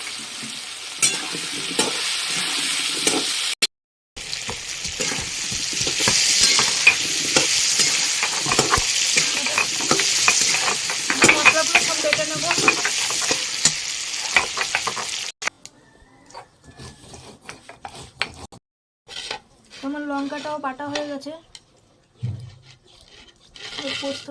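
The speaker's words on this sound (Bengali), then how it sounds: "বেশি করে হলুদ নুন দিয়ে ভালো করে আগে ভেজে নেবো" Food fries in hot oil in a pan with turmeric and salt, a loud continuous sizzle with stirring scrapes for about eleven seconds, then quieter moments and a person talking.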